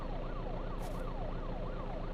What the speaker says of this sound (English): The siren might be messing me up a little bit, if anything, right now.